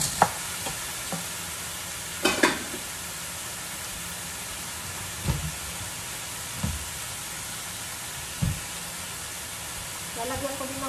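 Garlic and chicken frying in a pan for a Korean-style chicken curry, a steady close sizzle with occasional knocks and scrapes of stirring, a voice briefly speaking over it.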